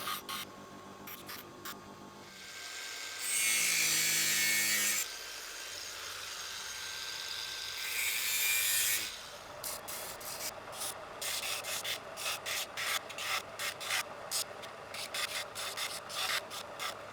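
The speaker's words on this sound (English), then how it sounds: "A final bit of shaping on the belt sander" A belt sander roars in two loud bursts as wood is pressed against it, followed by a run of short rhythmic scraping strokes.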